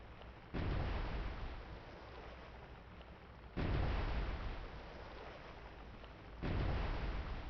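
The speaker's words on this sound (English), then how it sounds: "Each of the turrets have enough of a ready magazine to do about 10 to 15 shots" Naval gun turrets fire in the Cold Waters submarine warfare game, three heavy booming shots spaced a few seconds apart, each followed by a long rumbling tail.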